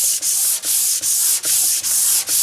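A sanding block with 220-grit paper rubs back and forth across a wooden coffee table by hand, loud close rasping strokes in a steady rhythm of about six passes with brief pauses at each turn.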